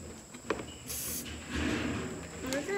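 A spray bottle or can used during beeswax processing chores gives a broad hissing burst near the start, with softer hissy spray noise continuing afterward amid background movement.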